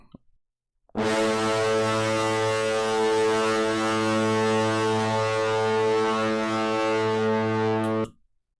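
A cinematic braam built from scratch with the punish button engaged: one loud, sustained brassy low blast lasting about seven seconds, thick with harmonics, starting abruptly and cutting off cleanly.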